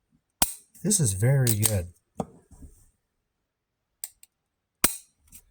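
Dry-fire trigger clicks from an M&P 2.0 striker-fired pistol, sharp isolated snaps spread apart, loud and close, with someone speaking briefly near the start.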